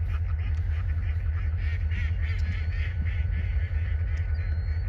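Ducks and geese, including redhead ducks, at a wetland bird habitat: a steady wash of honking and quacking calls from a distant flock, layered over a low rumble of wind or background noise.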